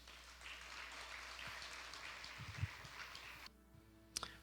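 A church congregation applauds during a worship service, giving quiet, steady, distant clapping that stops abruptly about three-quarters of the way through, followed by a couple of sharp knocks.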